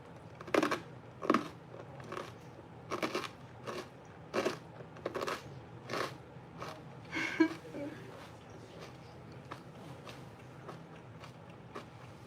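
Crunchy bites into tomato toast, a run of sharp crackling bursts close to the mic, spaced irregularly over the first several seconds and then fading into quieter chewing.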